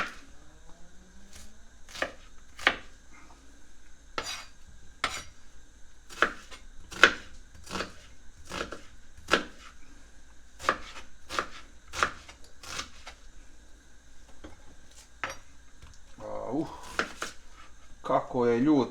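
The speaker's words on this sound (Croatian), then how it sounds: "Nisam seckao do sad ljući luk od ovoga." A knife chops onion on a board in a steady run of sharp, close strikes with short pauses, and a voice speaks near the end.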